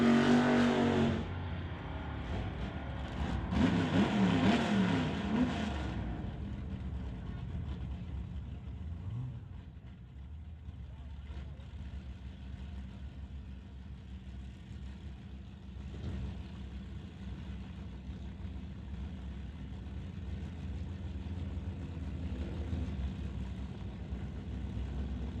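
Drag race car launching hard off the start line at a drag strip event, a loud engine roar bursting out in the opening seconds, then fading into a steadier distant engine drone with crowd and track ambience.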